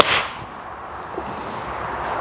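A forged golf iron strikes a golf ball with one sharp, muted click near the start, followed by quiet outdoor ambience.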